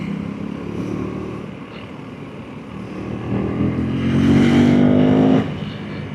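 A KTM Duke 350 motorcycle engine drones steadily on the road, then swells louder as the rider accelerates hard, the rising engine note with wind rush before easing off near the end.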